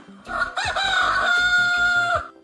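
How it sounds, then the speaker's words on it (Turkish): A rooster crows once, a loud, close cock-a-doodle-doo lasting a couple of seconds. "Bu bir horoz."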